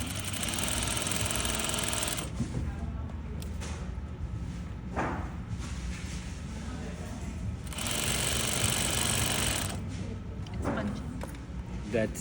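A sewing machine stitching fabric runs in loud bursts of rapid mechanical whirring, separated by short pauses with thumps while a person speaks.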